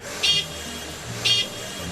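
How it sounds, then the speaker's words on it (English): A Zamboni ice resurfacer at a hockey rink gives two short, evenly spaced toots of its horn, about a second apart, over a steady wash of arena noise. "I didn't notice in the moment the Zamboni honk"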